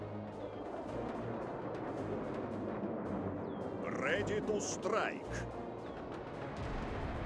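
Soviet artillery cannons fire in the World War II real-time strategy game WWA RTS, a dense, continuous roar of battle with heavier booms near the middle, while in-game voice lines speak over it.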